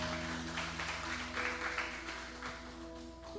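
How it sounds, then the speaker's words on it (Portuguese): A church congregation applauds during a sermon, steady scattered clapping heard faintly at a distance, with a low background hum. "Aplauda o Senhor, amém?"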